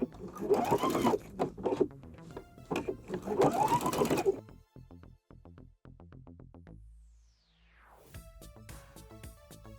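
A sewing machine stitches bias binding around the edge of a round drawstring pouch, whirring in fast bursts with pauses between, under a nearby speaking voice.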